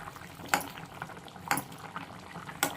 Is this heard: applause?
no